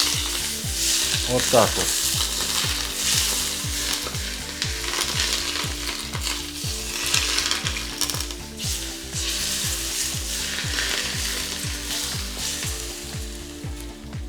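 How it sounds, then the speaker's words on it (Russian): Hot oil poured over garlic for marinated peppers, making a steady crackling sizzle alongside a rhythmic mechanical clicking, close and fairly loud, with a brief spoken remark. "И чеснок заливаем хорошо вот таким вот горячим маслом, видите?"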